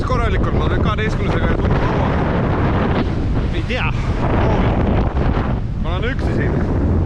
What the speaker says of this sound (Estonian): Tuul puhub päris korralikult